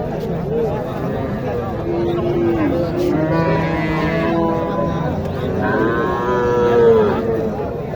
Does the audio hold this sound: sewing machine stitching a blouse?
no